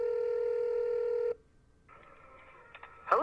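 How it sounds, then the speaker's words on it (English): Phone call to GameStop: a steady dial tone cuts off, then a softer ringback tone plays, followed by a brief burst of tones near the end. "as a bonus for this video, I'm going to end it with my phone call with GameStop"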